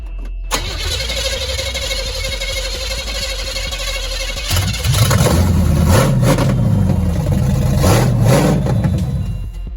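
A 1978 Chevy Nova engine cranks, catches and starts, then idles with a loud, rough rumble and revs up in several surges, close and dominant throughout.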